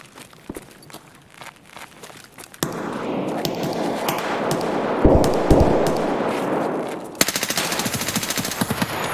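Gunfire in the video game Escape from Tarkov: rapid bursts and single shots crack close by over a busy rumble, with a sustained automatic burst toward the end.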